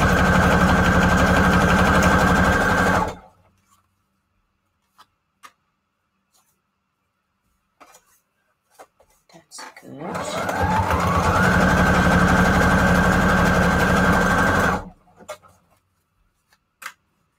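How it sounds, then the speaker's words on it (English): Sewing machine stitching strips of paper scraps together for journal embellishments, running in two steady bursts of about three and five seconds with a quiet pause between, loud and close, no talking. "So we intersect everything so we can get it all sewn together in one line."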